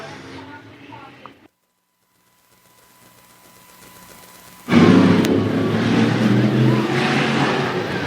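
Race cars on the track at Toccoa Raceway in Georgia: a quiet announcer-style passage with a faint engine drone, then from midway a loud, close roar of engines running together that holds steady to the end.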